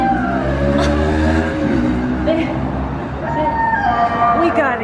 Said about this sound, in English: we're kind of by a busy street